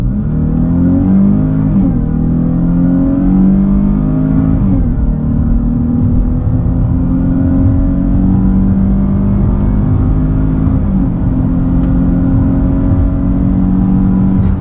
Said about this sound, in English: All right, let's do the acceleration one more time. Here we go. Foot to the floor.